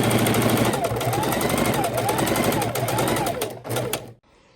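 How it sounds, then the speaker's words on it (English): Sewing machine running steadily as it stitches across the gusset of a fabric tote bag, a close, continuous motor whir with needle clatter that stops abruptly near the end. "we're going to bring our gusset with our marked line up under our foot and sew it across"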